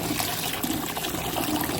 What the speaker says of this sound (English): we're running cold water in here